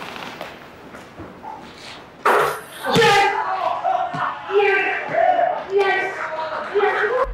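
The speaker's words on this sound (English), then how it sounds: "there was some behind the scenes footage where they show her making a shot and everybody's cheering." Film crew cheering and shouting on set after an actress makes a basketball shot, a loud burst of mixed voices that erupts suddenly partway through and stays lively to the end.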